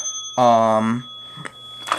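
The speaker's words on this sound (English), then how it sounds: "here is a bell Schindler got me." A Schindler elevator bell gives a single loud, harmonically rich ring lasting about half a second, followed by quieter clicks and handling noises nearby.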